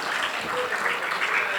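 An audience at an IRMA technical lecture in a Devka Beach resort hall in Nani Daman applauds a speaker taking the stage, giving even, sustained hand-clapping at moderate volume.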